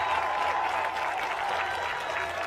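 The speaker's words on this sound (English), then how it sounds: "just listening to that crowd is amazing" Crowd cheering and applauding at the start of the 2017 ISA men's SUP final, a dense, steady roar of clapping and shouts that holds loud and unbroken throughout.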